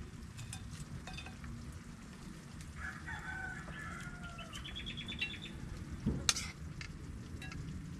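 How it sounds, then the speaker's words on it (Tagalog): A rooster crows at mid-distance amid chirping birds and a steady low background hum, with a brief knock near the end. "Sarap pakinggan ng ibon eh."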